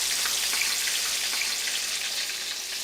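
A piece of fish lies skin side down in a very hot pan, giving a loud, dense, continuous sizzle with fine crackling spatter held at an even level.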